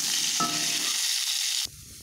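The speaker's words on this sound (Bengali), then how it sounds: "পটলটা ভাজা করতে হবে, সেই জন্য দিয়ে দিয়েছি কড়াতে তেল" Pointed gourd sizzles loudly in hot oil seasoned with turmeric and salt in a wok, a steady close hiss that stops abruptly near the end, leaving a quieter low rumble.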